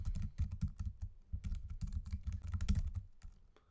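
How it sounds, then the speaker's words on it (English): Rapid, close keystrokes on a computer keyboard as login credentials are entered, a steady clatter of clicks with small pauses that fades near the end. "I'll type these in and I'll be back with you in a second."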